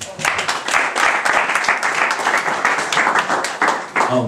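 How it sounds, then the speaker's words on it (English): An audience at a Nigerian community career workshop applauds a speaker with steady, dense clapping, loud and continuous for a few seconds. "Please clap for him."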